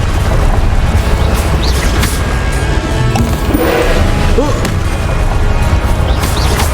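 Confringo explosion spell blasts in Hogwarts Legacy combat, booming bursts set within a dense, continuous wash of loud battle noise and crashing effects.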